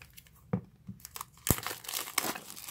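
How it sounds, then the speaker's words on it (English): Plastic wrapping on a box being cut and pulled open gives quiet crinkling and tearing, a few sharp crackles scattered through a short stretch with no talk. "So I'm just gonna cut open the plastic if I can do it."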